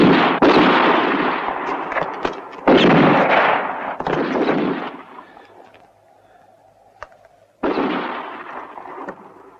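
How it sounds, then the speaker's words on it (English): Loud gunshots ring out during a shootout in a western film, several sharp reports in uneven bursts with echoing tails, separated by quieter gaps. "so keep on shooting all the time"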